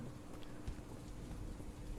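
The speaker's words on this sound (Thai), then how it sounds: "ทุกคนได้ยินเสียงฝนปะ" Rain falls in a night-time horror video game as a steady, soft hiss of rainfall with a faint low thump partway through, no voices.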